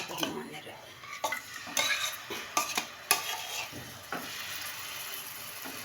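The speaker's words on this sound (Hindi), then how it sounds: "अभी इंशाल्लाह ताला इसको मैं करती हूँ इसमें फ्राई" Chicken shashlik frying in oil in a pan, a faint soft sizzle under irregular scraping and clinking of a spoon stirring against the pan, with no talk.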